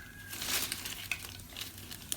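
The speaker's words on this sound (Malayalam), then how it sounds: "അതൊക്കെ കടുക് പൊട്ടുന്നു." Mustard seeds popping in hot oil on a gas stove: a steady close sizzle broken by scattered sharp little pops, with no talking.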